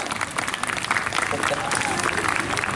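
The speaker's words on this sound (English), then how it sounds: "And one more round of applause." An audience at a live magic show performing the sawing-a-woman-in-half illusion claps in a sustained round of applause, with a voice talking over it.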